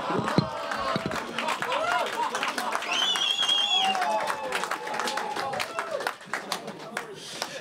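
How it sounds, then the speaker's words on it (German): Audience at a comedy roast battle claps and laughs in a dense, steady wash of applause that runs for several seconds, with voices and laughter mixed in, thinning slightly near the end. "Da klatscht ihr."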